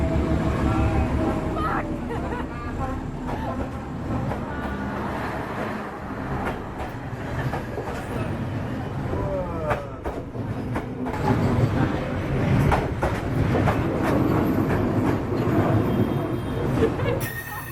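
A train rumbles through a narrow street in Hanoi, lined with tables and chairs, in a continuous loud roll of rail and carriage noise over a busy crowd murmur.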